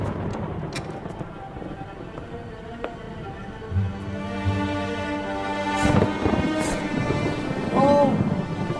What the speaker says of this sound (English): It's only the storm.